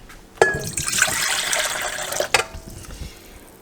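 Water pours steadily from a tap into a container for dinner roll dough, a loud broadband rush that starts abruptly after a sharp clunk and runs about two seconds before stopping, with faint kitchen noise after.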